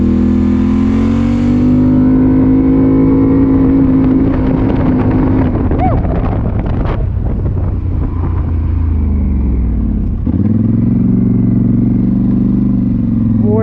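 Polaris Sportsman ATV engine pulling away under throttle, a rising whine that swells into a loud rough roar buffeted by wind, then settles back to a steady droning idle near the end.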